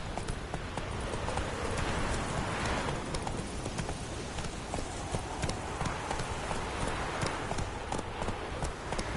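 Roach, the horse in The Witcher 3, gallops steadily with a quick, rhythmic clip-clop of hooves that runs unbroken from start to finish, moderately loud and close, with no talking over it.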